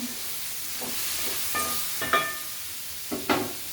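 Bitter gourd seasoned with salt, pepper and turmeric cooks on a low flame, giving a soft, constant sizzle broken by several sharp metallic clinks of a utensil against the pan.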